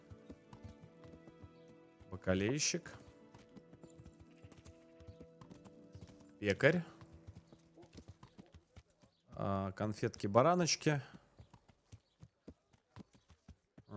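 Horse hooves clip-clopping along in the medieval game Kingdom Come: Deliverance, a steady rhythmic patter heard under scattered shouted voices and periodic whinny-like bursts.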